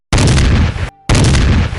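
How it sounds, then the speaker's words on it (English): In a Zelda video game, a bomb sets off two loud booming bursts in quick succession. Each is a broad, heavy blast, and a short quiet gap separates them. "I tend to use explosions a lot."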